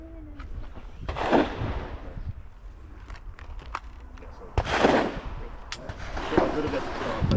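Several sharp handgun shots ring out at a shooting range during a concealed-carry skills class in Hawaii. The loud, widely spaced reports are separated by quieter gaps with background sound between them.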